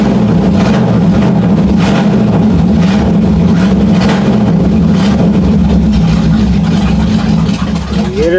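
A 1979 Chevy K20 truck engine with an oil leak runs at a steady, loud idle close by, its low rumble holding even throughout with a slight dip near the end.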